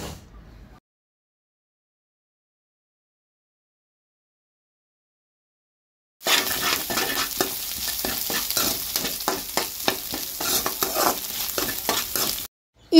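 Curry leaves fry in a pan for avakaya fried rice, a loud crackling sizzle with rapid rhythmic scraping of the spatula, starting abruptly after a long silence and running alone until it cuts off.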